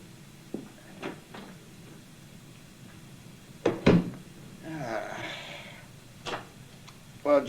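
An unlocked door is opened as someone enters a home in a radio drama: a few soft clicks and knocks, then a sharper latch-like clack and a brief creaking swing, with faint handling sounds afterward.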